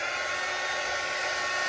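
Hair dryer blowing steadily to dry paint on a 16x20 canvas, a continuous close airy whoosh with a high motor whine, unbroken throughout and without talk.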